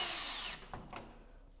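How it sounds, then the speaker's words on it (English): A power drill drives a screw into a Velux Integra electric roof window frame, a steady whir that stops abruptly, followed by two short trigger bursts, close and fairly quiet with no talking. "fix the smaller screws as you go"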